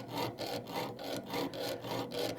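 A jeweler's saw cutting through a small metal earring piece, steady short back-and-forth strokes with a rasping, evenly paced rhythm, close and moderately quiet with nothing else heard.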